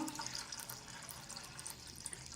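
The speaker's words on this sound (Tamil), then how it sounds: "இந்த பாலை வந்து இதில் ஊற்றிக்கலாம்." Milk is poured from close by into a cooking pot sitting on a stove, a faint, brief, steady liquid trickle and splash with no talking.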